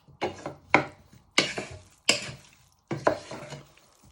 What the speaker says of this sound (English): So you're coating all your spices and your sunflower oil into your potatoes.